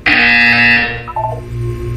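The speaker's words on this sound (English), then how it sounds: "You will hear a buzzer." A loud electronic buzzer from the video game Portal 2 blares for about a second, then drops into a lower descending tone, with a steady hum continuing underneath.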